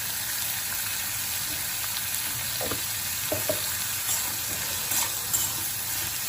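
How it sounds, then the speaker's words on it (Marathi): Bitter gourd pieces frying in oil for a dry Marathi-style sabzi give a steady, close sizzle that runs the whole time, with a few faint scrapes and stirs mixed in. "कारली अशी तेलामध्ये आपल्याला चांगली परतून घ्यायची आहे"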